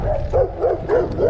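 Several dogs bark and yelp at a cyclist in a rapid repeating rhythm of about four or five loud, close barks, with wind and road noise underneath.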